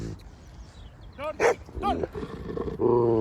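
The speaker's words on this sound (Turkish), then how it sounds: "Köpek yanımıza kadar geldi." A dog's sharp barks and yips come in short bursts, with a low growl underneath, fairly close and loud against a background of murmuring voices.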